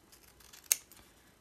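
Scissors trim a paper sticker with its backing still on. One crisp snip cuts through a quiet room, close and brief.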